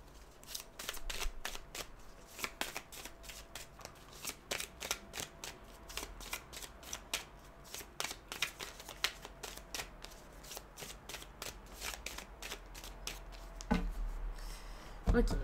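Tarot cards shuffled by hand for a cross spread: a long run of quick, close papery riffles and flicks in an uneven rhythm, fairly quiet, with a couple of louder knocks near the end and no talk.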